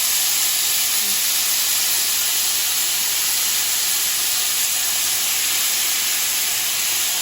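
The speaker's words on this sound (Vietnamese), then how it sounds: "mình bỏ thịt bò như vậy, mình vô mình cứ xào qua xào lại" Beef sizzles loudly and continuously as it is stir-fried in a hot pan for fried beef noodles, a dense, steady hiss with no pauses.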